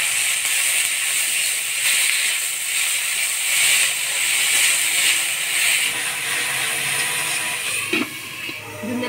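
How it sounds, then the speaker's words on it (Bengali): Sponge gourd leaves with black cumin frying in a little oil in a home kitchen, a steady loud hiss and sizzle throughout, with a brief clatter of a utensil near the end. "অল্প তেল দিয়ে ধুন্দুলের পাতাটা ভাজি নেব।"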